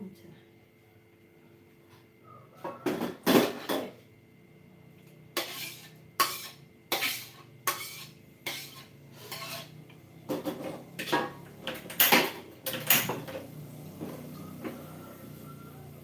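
Pots and utensils clatter and scrape while fried rice is cooked in a home kitchen, a run of sharp metallic knocks and clinks arriving in bursts, close and moderately loud, with a voice speaking at times.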